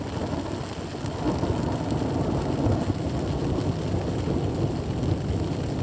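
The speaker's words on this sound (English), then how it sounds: "I can still hear some thunder." Steady rain pours down with low, rumbling thunder rolling in the distance at a canal lock on the Hennepin Canal, a continuous wash of sound with no voices.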